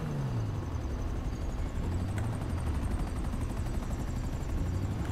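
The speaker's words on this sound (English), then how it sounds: "He's pulled in a helicopter." A helicopter arrives in GTA 5 Online, its rotor drone loud and close, a continuous throbbing roar with a whining high tone that holds steady from start to finish.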